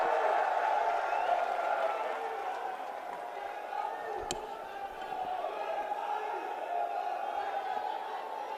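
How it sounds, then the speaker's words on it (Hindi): A rally crowd welcomes Priyanka Gandhi Vadra at an INDIA alliance event with sustained applause and cheering, a broad distant wash of clapping that holds steady throughout. "जोरदार तालियों से स्वागत कीजिए प्रियंका गांधी वाड्रा जी का"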